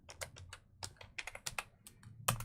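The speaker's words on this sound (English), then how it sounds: "All that typing is just lost to the universe." Steady typing on a computer keyboard, a run of crisp nearby key clicks at an uneven rhythm, with no voices.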